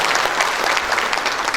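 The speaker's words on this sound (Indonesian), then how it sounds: "Ulangi lagi, tepuk tangan yang paling meriah." A room of bank clients at a trade finance and treasury gathering claps hard on request, a dense, steady burst of applause that fills the whole short stretch.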